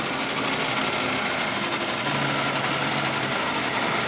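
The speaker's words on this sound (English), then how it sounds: "This lathe actually runs pretty good." A Logan Powermatic metal lathe with variable speed and a collet attachment runs steadily, giving a loud, continuous mechanical whir and hum with no pauses and no talking.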